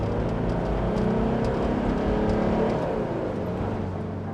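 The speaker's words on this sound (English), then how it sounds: "you can hear every decibel of that diesel engine" A throaty Mitsubishi Pajero SUV diesel engine revs hard and holds a steady loud drone with a gruff rumble. No one speaks.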